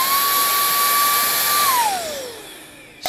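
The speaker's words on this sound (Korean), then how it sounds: "신기하게도 바람을 정말 세게 불어내주는 무선 더스트건이라고 하거든요" A Makita 40V cordless air dust gun blows a strong, steady rush of air with a high whine, then its motor winds down and the whine falls in pitch before a brief final burst; loud, close and alone.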